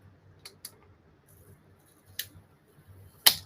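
Scissors snip around a paper die-cut sentiment from the Buttercup die set, with a few quiet, sparse clicks and cuts close by and a sharper snip near the end.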